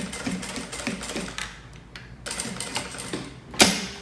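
A sewing machine stitches fabric for an ecobag in quick runs of rapid mechanical clatter, pausing briefly between passes and ending with a sharp click, close and moderately loud.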